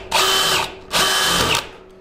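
A power drill runs in two short, loud bursts close by, each whirring for about half a second with a brief pause between them, ahead of drilling into garage sheetrock.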